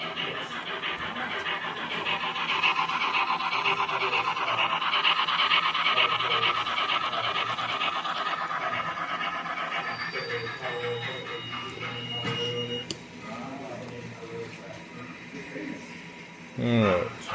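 An HO scale model train running along the track and through a switch, a close, steady rasping rumble of small wheels that fades partway through, with a person talking over it and a brief knock near the end.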